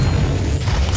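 Weapon shot in the video game DOOM: a single heavy, booming blast with deep low rumble filling the whole short moment, loud and close, with no talking.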